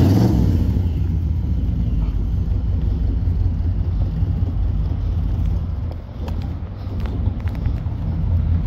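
A truck engine runs steadily in a Walmart parking lot, giving a close, continuous low rumble with some wind buffeting the microphone and no voices.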